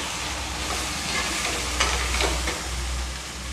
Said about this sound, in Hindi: अब हम इसमें आलू ऐड कर देंगे।